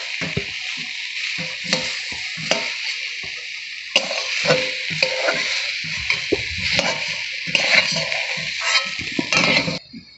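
Fried potato and eggplant pieces are lifted out of sizzling oil, with a steady frying hiss broken by repeated scraping and clinking of a utensil against the pan, close up and without talk.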